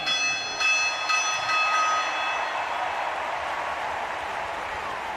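A victory bell at the Paris 2024 Paralympic athletics stadium, rung hard by a women's F53 discus winner: several bright, ringing strikes in quick succession, their tones hanging and fading over a steady, loud crowd roar.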